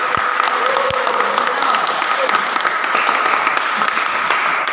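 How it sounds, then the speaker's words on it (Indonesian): A classroom group claps together after a student group's presentation, a moderate, steady patter of many hands with a few sharper claps standing out. "Oke, tepuk tangan dulu."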